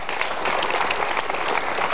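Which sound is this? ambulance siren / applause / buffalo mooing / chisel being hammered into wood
applause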